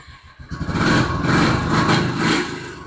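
A used motorcycle with about 20,000 km on it, offered for sale, idles steadily after a brief catch at the start, the engine's even rumble close and alone with no talk.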